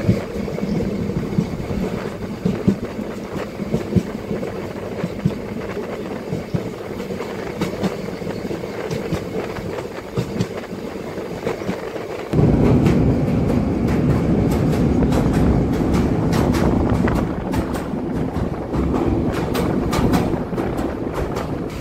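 The Mohanagar Godhuli train runs from Chattogram toward Dhaka and crosses the Titas rail bridge, a loud, continuous rumble with wind buffeting. About halfway through the clatter abruptly grows heavier and denser, with rapid rhythmic rattling of wheels on the bridge.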